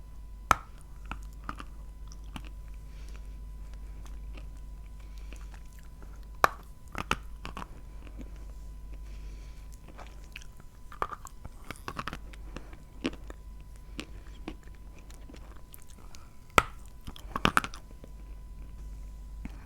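Close, quiet chewing and biting of pieces of Bashkir honey, with sparse sharp clicks and sticky mouth sounds over a low steady hum and no talk.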